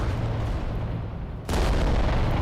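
Volcano cannons in Adeptus Titanicus: Dominus fire on an enemy titan: a loud, sustained roar of heavy blasts that drops off briefly, then surges back even stronger, with no talking.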